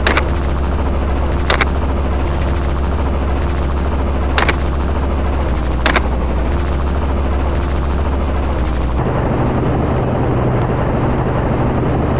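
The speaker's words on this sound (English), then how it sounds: "2 sharp cracks echoed across the field. 2 shots, 2 takedowns." A hovering helicopter drones loudly and steadily while a few sharp gunshots fired from it at wild boars crack out at intervals over the rotor noise.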